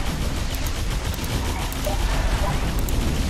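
A machine gun tower in the strategy game Defense Grid 2 fires a dense, continuous rattle of rapid shots that stays loud and even throughout, with no break or pause.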